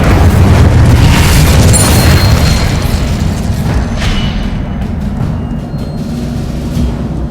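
The Incendio fire spell in Hogwarts Legacy bursts with a loud, continuous whooshing roar of flame. The sound starts at full strength and holds steady, fading slightly toward the end.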